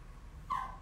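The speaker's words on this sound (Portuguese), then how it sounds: "A minha cachorrinha tá aqui chorando do meu lado." A small female dog whimpers once beside someone indoors, a brief, thin, high cry rising out of quiet room noise.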